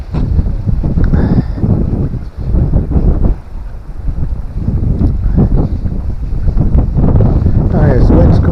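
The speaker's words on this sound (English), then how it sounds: "the wind's come up again" Gusty wind buffets the microphone on an outdoor canal towpath, a steady roar with louder surges, while people talk intermittently nearby.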